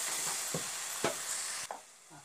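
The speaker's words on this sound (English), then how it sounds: "Fry it well till it mixes well with the masala" Tomato paste frying in a spiced masala for a Hyderabadi meetha nathili ka salan hisses in a soft, steady sizzle, punctuated by several light stirring knocks before it quiets toward the end.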